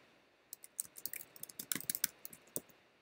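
A computer mouse clicks rapidly as a layer is renamed in photo-editing software, a quick, close, faint flurry of sharp clicks in an otherwise quiet room.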